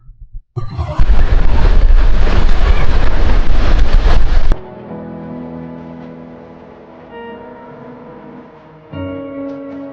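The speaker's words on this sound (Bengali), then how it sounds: "চারিদিকে ঢেউ ছিটকে পড়ছে পুরো পাড়ের ওপরে" A loud, rough burst of waves crashing and splashing over a shore lasts a few seconds, then drops off sharply into quieter ambience with faint tonal sounds.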